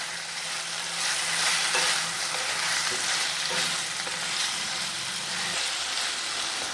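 Powdered turmeric, onion-garlic masala, coriander powder and garam masala are stirred into masala frying in a pan, giving a steady loud sizzle with soft intermittent scraping strokes.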